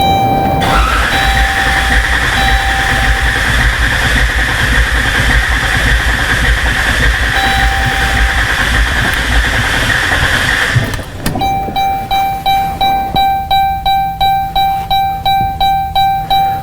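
A 2014 Chrysler Town & Country 3.6L engine with a misfire cranks over during a relative compression test, a loud steady whir with a high tone for about ten seconds, then stops, followed by regular rhythmic pulses and a tonal hum.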